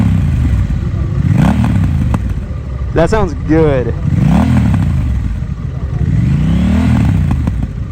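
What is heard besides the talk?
Honda Rebel 1100T motorcycle with Vance & Hines exhaust revving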